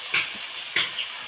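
Tomatoes, peas, green chilies and semolina frying in a pan, a close sizzle broken by two sharp scrapes of a spoon stirring the mixture.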